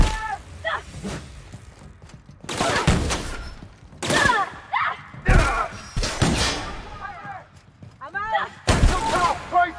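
Gunfire in the video game The Outer Worlds: loud bursts of shots and heavy thuds arriving in clusters, mixed with other game sounds and voice-like tones.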